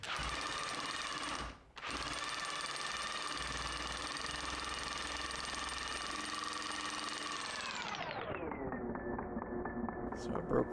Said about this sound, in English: here I try to impact a bolt into the hole, and it is not a hardened bolt